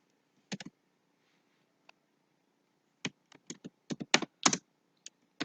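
Computer keyboard typing code, scattered clusters of crisp close key clicks with short pauses in a quiet room.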